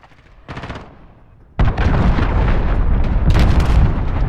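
Cruise missile strike in Call of Duty Modern Warfare: a short burst of gunfire, then a sudden heavy blast giving way to sustained rumbling explosions and rapid fire, loud and close.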